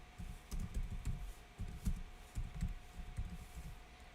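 Someone types on a laptop keyboard while reaching underneath to get at it, producing soft, quiet clusters of key clicks in short irregular bursts with brief pauses between them.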